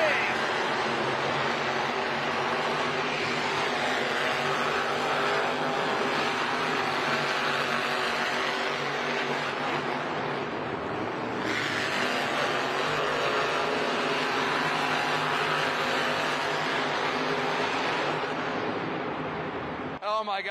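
Monster Jam monster trucks racing at an arena in Arlington, Texas, a continuous loud engine roar with crowd noise running the whole time and a brief dip partway through.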